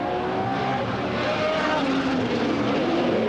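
Rallycross car at Lydden Hill in 1985 thrown sideways through a chicane, its engine roaring loud and steady throughout, with a rough drone that stays close and constant.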